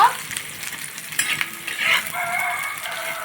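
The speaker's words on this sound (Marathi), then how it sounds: "तो तव्यातून घालून घेते आणि फ्राय करूया आपण छान कांद्याला" Onions sizzle and crackle in a hot iron pan, with occasional scraping stirs and faint bird calls in the background; no talking.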